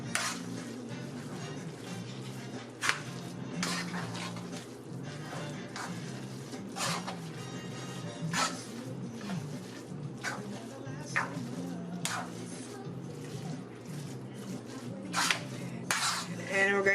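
Diced red onion being mixed into a pot of jollof rice, with repeated clinks and scrapes of a utensil against the pot over a steady background hum and faint talk.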